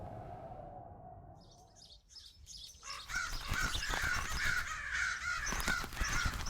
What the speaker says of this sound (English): Bloody crows.